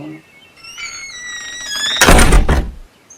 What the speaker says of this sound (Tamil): கொஞ்சம் கதவு பைய தான் சாத்தணும்